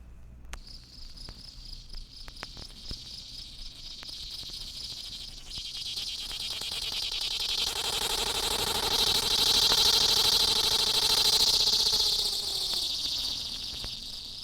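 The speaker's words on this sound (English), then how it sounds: "Its song is a loud, pulsating buzz, lasting 10 or 15 seconds." A swamp ground cicada (Tibicen chloromira) sings a loud, pulsating buzz that swells gradually, peaks near the middle and then fades away.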